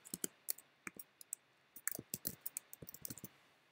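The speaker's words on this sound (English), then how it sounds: "I'm just going to click here and type adventure." Crisp, close computer mouse clicks followed by quick keyboard typing, a scatter of light taps in irregular bursts against near silence.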